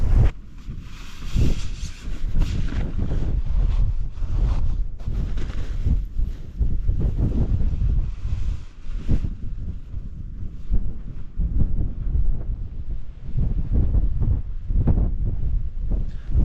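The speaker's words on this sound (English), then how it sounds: "So I'll have to find somewhere that's just out of the wind a little bit." Cold wind buffets the microphone high on Bow Fell in below-freezing conditions, a loud continuous low rumble with gusty surges and rustle lasting the whole stretch, no voices.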